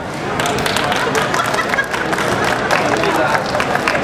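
An audience at a cookware demonstration claps steadily for a few seconds, dense and close with a faint murmur of voices beneath.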